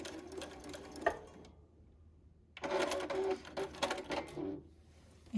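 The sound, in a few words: sewing machine sewing off edge of quilt binding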